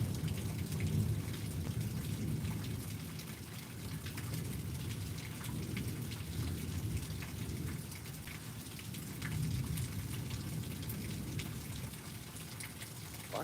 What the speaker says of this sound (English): It was almost 10 seconds before it started